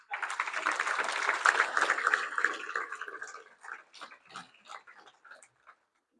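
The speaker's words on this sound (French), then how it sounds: "Des applaudissements à l'ensemble de ces acteurs." Applause from an audience at the draw ceremony for the Dirinon international tournament: a dense, loud burst of clapping that thins after about three seconds into scattered, fading claps.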